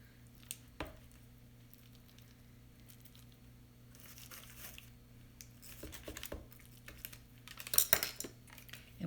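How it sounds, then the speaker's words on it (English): A knife cuts slits into a raw meatloaf in a pan: soft squishy pokes and scrapes, a few sharper clicks of metal on the dish, close and fairly quiet over a low steady hum. "We're just going to make some slits."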